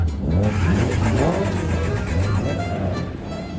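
Historic race cars at Snetterton, period-style near-standard road cars fitted with roll cages, accelerate past nearby with loud, rising engine roar that holds steady for a few seconds before easing slightly.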